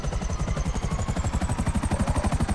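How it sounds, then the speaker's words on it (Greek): Helicopter rotor in the video game GTA Online, a loud steady rhythmic chop of fast blade pulses with an engine whine, continuous and close throughout. "Έχω κι άλλο ελικόπτερο."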